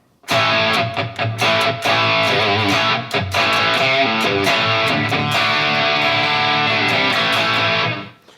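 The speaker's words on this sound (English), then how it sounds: "or the distortion channel," Electric guitar (Enya Inspire smart guitar) on its distortion channel plays loud, driven chords and riffs with sharp attacks and a thick, saturated tone, steady for about eight seconds before cutting off.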